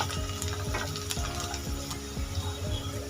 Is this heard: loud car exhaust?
no